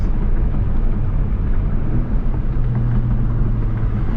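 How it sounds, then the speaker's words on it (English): Engine of a 2025 Honda Civic Type R rev-matching on the move, heard as a steady, loud, low cabin drone with a slight rise in pitch and no voices. "rev match works great"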